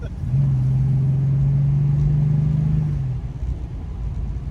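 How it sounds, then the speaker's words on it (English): A rare Holden Turbo Torana accelerates in a run up to 70, its engine a steady droning hum rising slightly over a few seconds inside the car, with low road rumble underneath and then fading. "we are driving the Turbo Torana. Give it a run up to 70."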